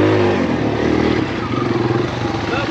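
A Kawasaki KLX140RF dirt bike engine drones loud and close as it climbs a mountainside, its steady mid-pitched buzz pulsing slightly with throttle and bumps.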